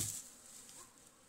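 Honey bees buzz close by during a honey harvest, a short faint drone that fades slightly.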